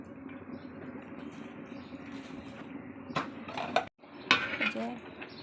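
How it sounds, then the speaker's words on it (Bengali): Rice for chicken biryani stirred in a large pot over a clay stove, with a low steady hum followed by clinking and scraping of a ladle against metal near the end, briefly cut off, then louder scraping. "চাউল দেওয়া হলো এবার নাড়াচাড়া করে নাড়াচাড়া করতে হবে"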